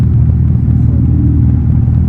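The synthetic engine sound of a 2025 Dodge Charger EV, a deep, constant low rumble like a growling monster, loud and close, holding steady without revving.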